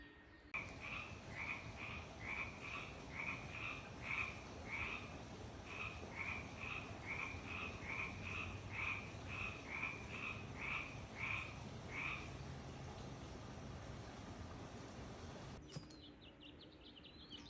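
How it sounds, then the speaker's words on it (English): Frogs croak outdoors in the upper yard of an herb farm, a rapid rhythmic series of pulsed calls repeating for about twelve seconds over a steady background hum, then fading out. "here is a video in the upper yard about these froggies croaking away"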